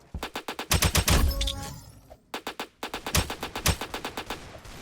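AK-103 rifle fire in the Roblox shooter Aimblox: quick bursts of close, sharp gunshots in a steady rhythm, a short lull near the middle, then more rapid shots resuming, with no talking.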